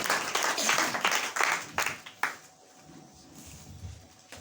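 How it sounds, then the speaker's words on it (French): A church congregation breaks into loud, scattered applause and clapping during a service, strongest at first and then fading into a quieter room murmur. "acclamons très fort pour la gloire de Dieu"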